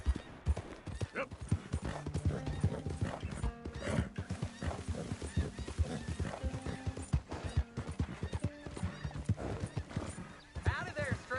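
Horse hooves clip-clop steadily along a trail in Red Dead Redemption 2, close and rhythmic, with an occasional whinny and a voice talking over the hoofbeats.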